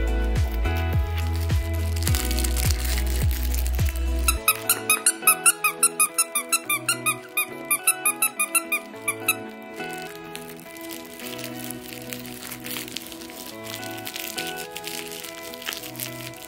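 A squeaky dog toy is squeezed for a Cavapoo puppy, giving a quick run of about ten sharp, evenly spaced squeaks close by, set against a steady musical background that continues after the squeaking stops.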